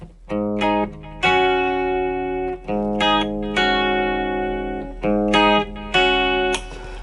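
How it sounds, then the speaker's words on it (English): Dry, distorted electric guitar chords and notes, played close and loud in short phrases, each ending abruptly with no lingering echo. "listen to the tone without reverb"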